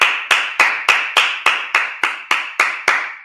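Congregation at a Sabbath service clapping in unison: about eleven sharp, evenly spaced claps in a steady rhythm, loud and close, with no talking.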